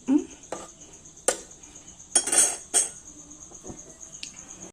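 A spoon scrapes and clinks against a pressure cooker as adai payasam is stirred, several metallic knocks spaced irregularly over a faint steady hum.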